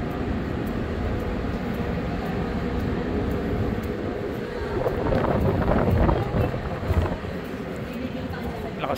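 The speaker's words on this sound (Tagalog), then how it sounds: "Lakas ng hangin saka lakas ng alon" Strong wind buffets the microphone in a steady roar on Manila Bay, with rushing water and wave wash swelling louder midway, dense and close.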